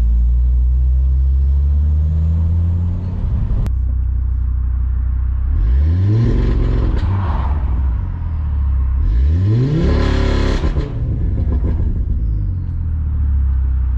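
An Audi RS3 engine with a custom turboback exhaust idles, then revs hard twice in strong bursts with crackling exhaust, close and loud, settling back to idle between.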